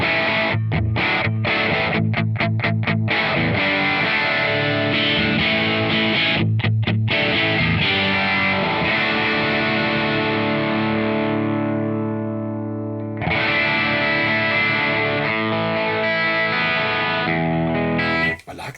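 Electric guitar with a wide range humbucker played through a Crazy Tube Circuits Hi Power overdrive pedal, loud distorted chords with sharp stop-start stabs early on, then long sustained ringing chords that break and resume.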